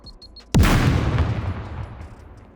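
A C4 charge detonates in the survival game SCUM, a sudden loud blast after a few faint high beeps, followed by a long rumbling decay that fades over two seconds.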